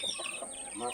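Chickens cluck softly and steadily as a room of hens and Asil cross chicks is opened and let out, a close, continuous murmur of clucks with a faint voice underneath.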